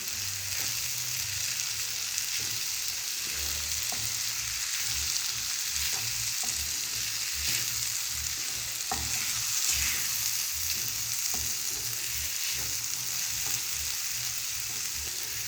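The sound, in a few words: stirring bottle gourd curry frying in a pan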